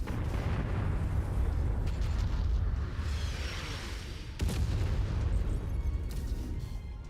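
An artillery garrison blows up in the video game MechWarrior 5, heavy rumbling blasts over a dense low roar, with a sharp new explosion hitting partway through and sounding loud and close, and no voices.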